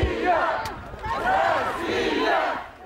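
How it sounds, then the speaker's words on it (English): Hostile mob of militia supporters chanting "Russia, Russia" in rhythmic repeated shouts, several loud massed swells of voices surrounding a UN envoy's departure. "Russia, Russia, they screamed."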